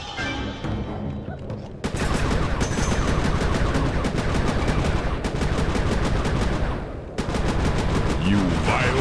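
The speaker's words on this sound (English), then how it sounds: "Be careful with those fireworks, Panda King." Rapid, dense bursts of fireworks fire from the Panda King in the Sly 3 video game, a loud continuous crackling barrage with a brief drop near two seconds and another short pause near seven seconds.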